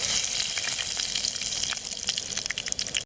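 Steady, loud sizzling and crackling of fennel seeds, cinnamon and bay leaf frying in hot oil for cauliflower kootu, continuous throughout with small popping bursts, no voices.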